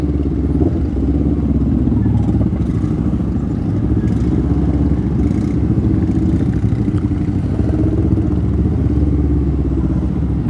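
A Honda CBR250RR motorcycle engine droning steadily while riding through traffic in Cikalongkulon, a continuous low rumble with wind noise and no talking.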